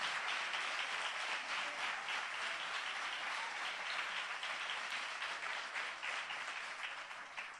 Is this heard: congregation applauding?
yes